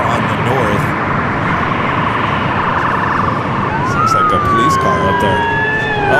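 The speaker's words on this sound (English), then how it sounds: "Sounds like a police car up there." Police car siren wailing near LAX airport, rising and falling tones in the distance over a loud steady background of aircraft noise, with a person talking throughout.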